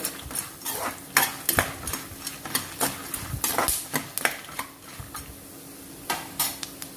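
Peanuts and roasted gram being stirred in a pan, with repeated sharp scraping and rattling strokes of a spoon against metal over a light, continuous background sizzle, close and fairly loud.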